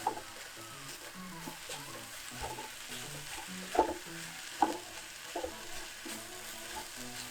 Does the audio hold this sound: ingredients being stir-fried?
yes